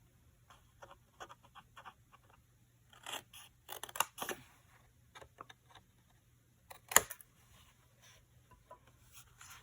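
Scissors snip through paper card along straight and diagonal trim lines while making a folded card, giving quiet, intermittent crisp cuts in uneven bursts with a sharper snip near the middle.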